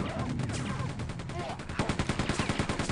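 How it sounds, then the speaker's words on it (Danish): Rapid bursts of gunfire from Quake 2 as barrels are shot, with dense repeated shots growing sharper and more rhythmic toward the end, under faint background voices. "Jeg skyder lige tønderne."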